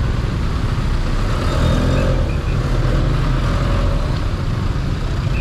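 Road traffic passes close by as a steady, dense engine rumble with occasional revving, continuous from start to end.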